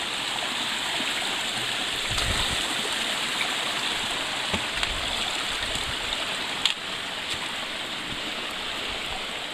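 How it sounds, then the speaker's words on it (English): A mountain brook rushes steadily at a trail crossing on the Mount Tecumseh Trail in New Hampshire, a close, continuous broadband wash of flowing water with a few faint knocks. "Alright, we have another mess of a brook crossing."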